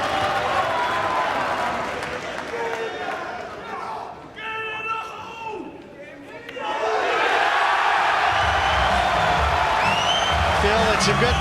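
Crowd at a Mosconi Cup pool match at Alexandra Palace, loud roaring cheers and applause that dip briefly mid-way, then swell back to a sustained loud din with a commentator talking over it.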